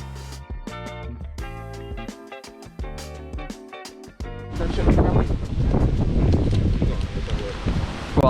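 Music plays at first, then strong wind buffets the microphone with a loud, rough roar that continues to the end.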